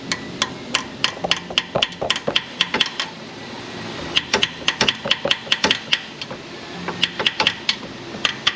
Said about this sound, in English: Hammer this one in.